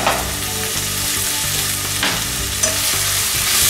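Minced garlic frying in a hot pan, a loud continuous sizzle with a couple of soft stirring scrapes, heard close with no voices.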